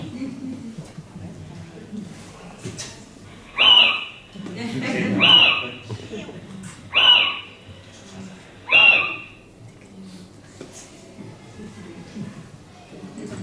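A nocturnal owl gives four spaced, clear hooting territorial calls at a steady rhythm, fairly near and loud, while someone speaks quietly in Spanish around the calls.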